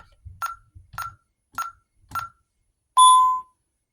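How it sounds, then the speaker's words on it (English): Four short, evenly spaced keypress beeps on an ADT SafeWatch Pro 3000 alarm keypad as a code is entered, then one longer, louder confirmation tone. Each press is preceded by a soft low tap, heard close in a quiet room. "So we can just type in our code again to reset it"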